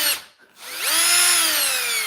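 Power drill whirring as it spins up, rising steadily in pitch and running loud and close for under two seconds, used to drive screws into a Makita tool housing during a repair.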